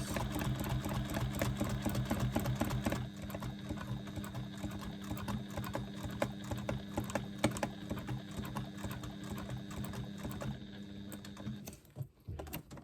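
Sewing machine stitching in a rapid, continuous mechanical run during free-motion quilting around a paisley design, steady and close for most of the clip before slowing and briefly stopping near the end.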